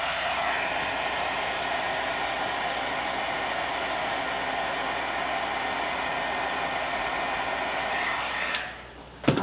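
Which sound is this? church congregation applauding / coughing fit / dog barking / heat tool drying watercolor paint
heat tool drying watercolor paint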